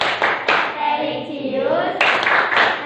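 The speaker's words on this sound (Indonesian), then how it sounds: "tepuk dulu ya, tepuk PPK" A class does the rhythmic PPK clap in a 2020 school lesson, several short bursts of clapping between chanted group voices, close and fairly loud.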